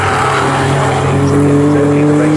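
Race cars circulate on the Snetterton circuit during a CSCC Tin Tops series race, giving a steady, loud engine drone with a strong sustained tone throughout and no break.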